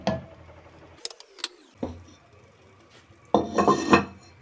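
A metal lid set onto a cooking pot of simmering matki, matar and aloo curry, with a few sharp clanks and a rattle, followed by a later burst of metallic clattering, all close and fairly quiet.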